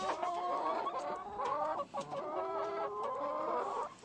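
Backyard chickens in a Los Angeles city yard cluck and murmur in quick overlapping calls, close but fairly soft, with a brief pause midway.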